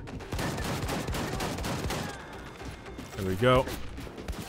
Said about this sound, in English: Being shot from in a lot of directions.